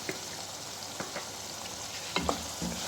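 Baingan bharta with coarsely crushed black pepper being stirred and roasted in a pan, giving a low steady sizzle broken by a few soft spatula scrapes and taps near the end, with no talking.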